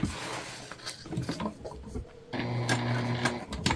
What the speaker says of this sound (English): stitching through your bag tag and your interior